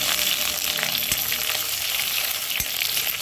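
Pork fat frying with cumin seeds in a pan, a continuous close sizzle and crackle with a couple of brief sharp pops, no talking.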